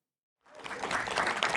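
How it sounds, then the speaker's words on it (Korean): Members of a cryptocurrency exchange applauding a company director at a gathering, crowd clapping that swells in after a short silence and holds as a dense, steady burst of many hands. "회원들의 박수가 쏟아집니다."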